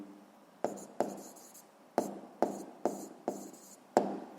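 Pen strokes scratch across paper as a physics answer is written out by hand, about eight sharp, evenly spaced strokes in a quiet room.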